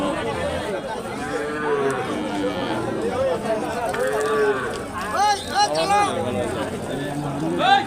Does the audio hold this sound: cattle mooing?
yes